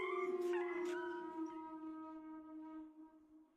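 A dog howls in agony, one long mournful wail that starts loud, then slowly tapers off and fades away with no voices over it.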